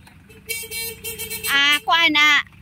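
A loud, sustained surplus Japanese dropside stake-body truck horn blares in two long blasts close by, with a short lower honk just before them over a low background rumble.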